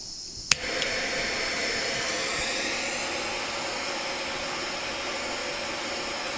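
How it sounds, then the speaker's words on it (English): A jeweler's torch, a pointed blazer-style flame, heats paste solder on a jump ring, giving a steady, close broadband roar that ignites with a sharp pop and holds evenly throughout. "And I'm going to come in with my torch."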